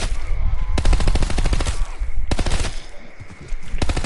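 Rapid automatic gunfire from a Call of Duty Vanguard zombies match, loud close bursts of fast repeating shots in two long volleys with a short trailing burst.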